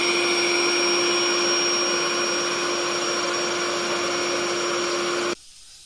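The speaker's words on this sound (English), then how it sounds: "It is worth mentioning that the included pump is loud." The built-in electric pump of an Airefina twin air mattress runs with a loud, steady whining drone and a sharp tonal hum, then cuts off abruptly near the end.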